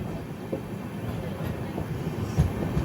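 Ratnachal Express LHB train crossing the Sarada river bridge near Anakapalli, heard from on board as a steady low rumble with rhythmic wheel thumps and a louder clank near the end.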